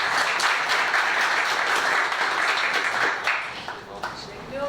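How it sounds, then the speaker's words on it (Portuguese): A crowd applauds steadily with dense, continuous clapping that gradually thins out toward the end, with a few voices audible underneath. "Salve de palmas pro Vinícius aí."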